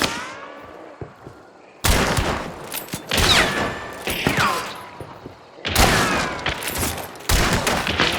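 Loud, dense volleys of gunfire from the video game Hunt: Showdown, with heavy bursts separated by brief lulls and one cracking shot ringing out early before the firefight erupts again.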